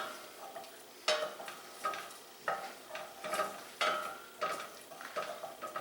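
Onions cooking in a pan for meatloaf and red-eye gravy, with recurring bursts of stirring and scraping over a steady soft sizzle, each stroke fairly close and crisp.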